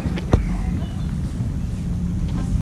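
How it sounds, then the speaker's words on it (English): Strong wind gusts buffet the microphone outdoors at an American football practice in Germany, a steady, loud low rumble that lasts the whole stretch with one sharp bump near the start. "It is really windy out"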